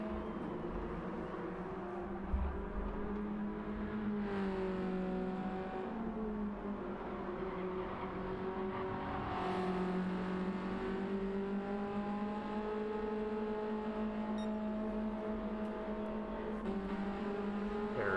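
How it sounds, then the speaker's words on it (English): BMW E30 race cars in a sim racing championship finale whine along together, engine pitch rising and falling through gear changes and corners, steady and moderately loud without talk. "Pigham's is right on that rear bumper of that Martini BMW here now"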